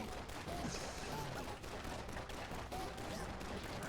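A gun in the farming shooter Atomicrops fires a steady stream of quick, faint shots under busy game noise and music, with no voice during the firing.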